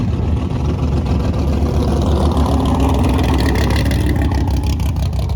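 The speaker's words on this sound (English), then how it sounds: "We wanted to just make a nice cruise down the track, make sure it was good." A Chevrolet S10 pickup with an LS 5.3 V8 cruises down a drag strip at about 2,500 RPM, its loud, steady engine drone filling the recording without a break.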